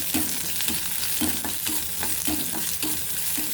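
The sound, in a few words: dried red chillies frying in oil in a pan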